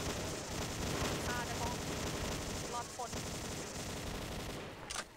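A light machine gun in the shooter XSHOT rattling in long, steady bursts, loud and close, with a voice talking over the gunfire.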